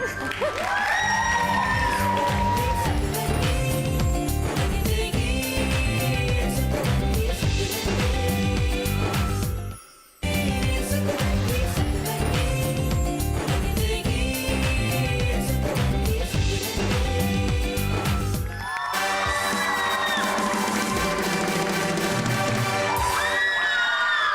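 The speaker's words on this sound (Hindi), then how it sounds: "ओए होए चीखें बता रही हैं कि आप बड़े पसंद हैं लोगों को" A studio audience on the Indian TV show Satrangi screams and cheers loudly for a guest, with music playing along. The noise runs almost continuously, dropping out briefly once midway.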